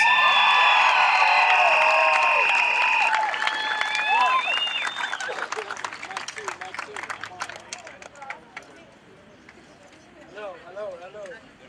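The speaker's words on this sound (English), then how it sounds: "Let's give that a round of applause." Rally crowd in Lawrence clapping and cheering after a chant, with loud whistles and shouts over the applause at first, then the clapping gradually thins and dies out, followed by talk.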